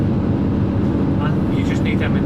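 An HGV truck engine runs at about 1500 revs. Its loud, steady, deep rumble fills the clip, and a few faint higher tones come through near the end.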